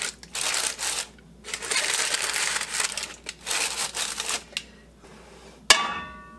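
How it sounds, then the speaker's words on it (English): Parchment paper smoothed and pressed into a bread pan, bursts of crinkling and rustling with brief pauses, ending in a sharp knock against the pan, close and fairly quiet. "I'm getting this parchment smoothed out so that when it rises, I won't have a bunch of parchment cooked into my bread"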